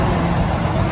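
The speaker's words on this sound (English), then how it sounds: "Listen to that engine run." The V10 engine of a 2014 Ford F550 truck runs at a steady idle, a low continuous rumble held for a second with no voices.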